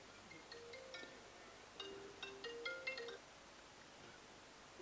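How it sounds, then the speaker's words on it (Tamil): Faint electronic mobile phone ringtone with a short melodic pattern, quiet at first and then brighter with several clustered tones, heard at a Tamil film audio launch event. "எங்கள் தலைவர் ஃபோன் அடிக்கிறாரு"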